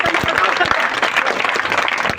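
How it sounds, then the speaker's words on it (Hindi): Dense applause from a crowd at a political rally in Teghra, with a few sharp individual claps standing out, sustained and loud for the whole stretch. "एक बार पुनः दमदार तालियों के बीच में स्वागत करेंगे।"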